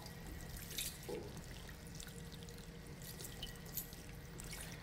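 A running tap pours water over soapy hands being rinsed at a sink, a steady splashing stream with brief drips throughout.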